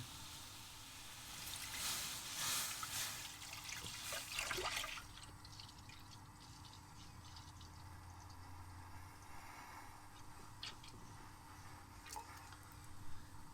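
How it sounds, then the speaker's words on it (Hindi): Milk poured into a pot of warmed water for Lahori-style kheer, a steady liquid splashing and trickling pour for a few seconds that then settles into quiet dripping and faint kitchen sounds. "पानी जो है वो वार्म हो चुका है और अब हम इसमें दूध शामिल करते हैं।"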